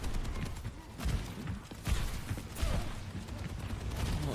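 Rapid gunfire from the Overwatch video game, a dense run of shots and bursts that carries on throughout, loud and busy with no pauses.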